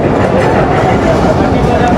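Betna Express train pulling out of Navaran railway station, a loud steady rumble and rattle of carriages heard from on board, with faint clacking and a voice speaking over it.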